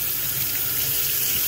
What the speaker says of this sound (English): flushing out your hose so there's no paint in there